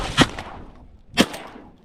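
A shotgun fires twice while duck hunting over flooded bean fields in North Dakota. Two sharp, loud blasts land about a second apart, each with a short fading tail, against a quiet outdoor background.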